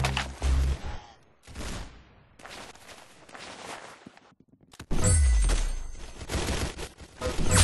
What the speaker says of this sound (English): The bullet exits the chamber with a sudden shout, as the enemy then promptly blacks out.